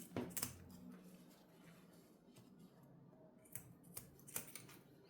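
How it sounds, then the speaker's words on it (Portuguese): Old scissors snipping through the end of a zipper while a fabric phone wallet is being sewn: a few quiet, sharp metallic cuts close by, with faint clicks in between and no talking. "Cortem o zíper sempre com uma tesoura bem velha para não estragar a tesoura de tecido de vocês."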